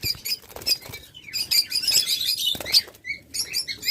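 Local-breed farm birds flap their wings in quick bursts close by, a fluttering patter mixed with sharp high chirps and squeaks over about four seconds, with no talking.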